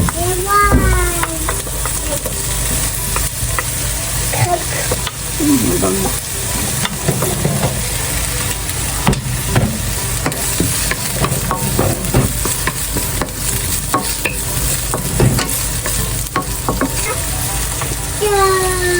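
Garlic and onion sizzling and frying in a pan, a steady close hiss with scraping stir strokes throughout while someone talks.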